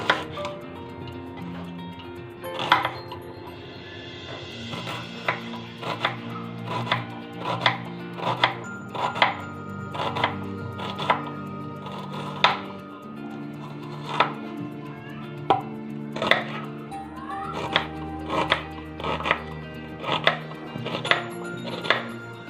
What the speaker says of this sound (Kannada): ಇವಾಗ ಆನಿಯನ್ಸ್ನೆಲ್ಲ ಕಟ್ ಮಾಡ್ಕೊಬೇಕು